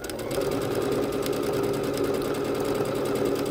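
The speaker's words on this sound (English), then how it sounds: "we are continuing to stitch out all of the decorative stitches on our B-77 Bernette" A Bernette B-77 sewing machine stitches a decorative stitch with a steady, fast mechanical whir and rhythmic needle clatter, running continuously and close by.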